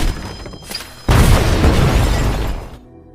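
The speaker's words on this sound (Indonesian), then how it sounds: "Dan begitu pintu mereka dobrak, tanpa diduga sebuah ledakan terjadi." Film explosion as a door is forced open: a sudden loud boom bursts in after a second of tense rumbling, holds as a roaring blast with debris, then cuts off abruptly.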